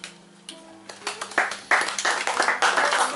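Audience applause from a men's group at a library event, starting as a few scattered claps and swelling into steady, dense clapping that carries on to the end.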